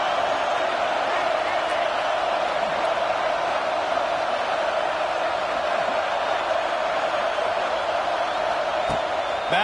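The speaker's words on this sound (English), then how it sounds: "Listen to this crowd just shaking the girders of this place, trying to help their defense." A packed stadium crowd roars continuously at a Florida State football game, a loud sustained wall of cheering that holds steady for the whole stretch with no pauses.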